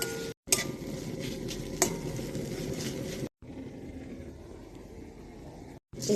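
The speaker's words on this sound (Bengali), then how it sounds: "আর হালকাভাবে এটা নাড়তে হবে, নাড়তে নাড়তেই সিদ্ধ হয়ে যাবে।" Papaya chutney being gently stirred in a pan, a soft continuous scraping and bubbling texture with a couple of brief clicks of a utensil against the pan, steady and close, with no talk.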